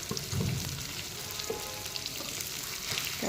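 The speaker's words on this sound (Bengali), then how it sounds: "এবার ক্যাপসিকাম দিয়ে দিচ্ছি" Capsicum sizzling in hot oil with green chillies in a home kitchen pan, a steady close frying hiss with faint stirring scrapes throughout, no voices.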